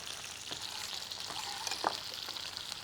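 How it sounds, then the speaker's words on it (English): Brussels sprouts frying in a hot pan over high heat, a close, steady hiss and crackle with scattered pops and a brief clatter or stir partway through. "turning the heat right up, and I'm just going to let those fry off"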